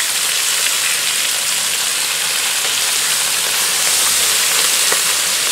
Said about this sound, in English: I'm going to start to cook in the cabbage